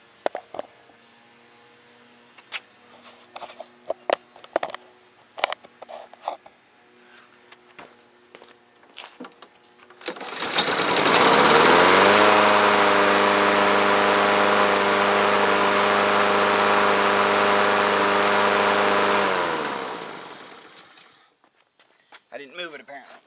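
A small gasoline engine starts up after some clicks and handling noises, runs at a steady loud drone for several seconds, then stops.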